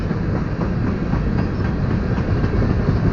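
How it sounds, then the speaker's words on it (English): A Montana Rail Link freight train rolls past, a steady, loud rumble with rhythmic wheel clickety-clack throughout, close and continuous with no talk. "I filmed this whole train for you guys"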